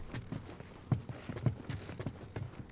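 Horse hooves clip-clop in the video game The Last of Us, a steady walking rhythm of muffled thuds, fairly soft, with no talking over it.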